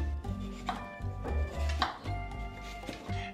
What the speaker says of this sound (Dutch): Het enige wat we hoeven te doen is deze stukjes meloen in vieren te snijden.